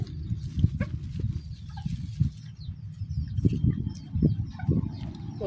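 Chickens cluck repeatedly at close range outdoors, a steady run of low, throaty calls with occasional sharper notes and no talking.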